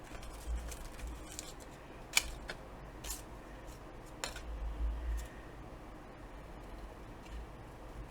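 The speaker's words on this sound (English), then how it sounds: "I'm going to go ahead and trim this with my scissors" Scissors snip through a paper mini file folder in a few quiet, sparse cuts, with faint handling rustle between the crisp clicks.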